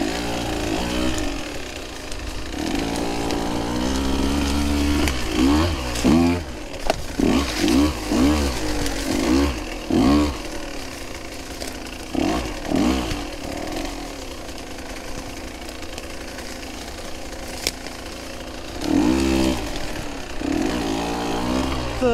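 A KTM 150 dirt bike out on a Michigan trail revs hard in first gear, close and loud, its buzzing two-stroke engine rising and falling in repeated surges before settling back toward idle.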